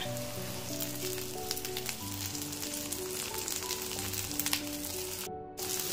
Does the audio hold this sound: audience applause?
no